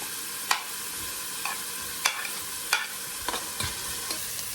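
Garlic, onion and ginger sautéing in a pot for Filipino chicken tinola, a soft steady sizzle broken by several sharp scraping stirs of a utensil against the pot, close and without talk.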